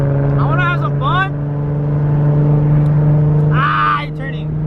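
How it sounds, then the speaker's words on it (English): A Nissan 350Z with a loud aftermarket exhaust idles roughly nearby, a steady low drone with an uneven misfiring stumble, while people talk over it. "As you guys can hear, this car's misfiring right now."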